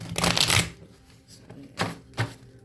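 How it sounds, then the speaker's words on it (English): A burst of tarot card shuffling up close, followed by two short riffling snaps, with no talking. "I feel like I want to shuffle these again"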